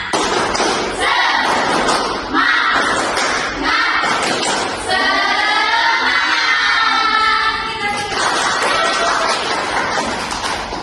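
Schoolchildren in a classroom perform a rhythmic clap chant, loud patterned bursts of claps and thumps mixed with chanting voices and an adult voice leading.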